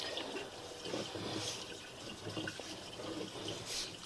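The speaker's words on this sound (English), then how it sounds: "I think we're running some water from the half bathroom sink" Water running from a half-bathroom sink gurgles and splashes through a sewer pipe, heard faintly from inside the pipe as an uneven trickling wash.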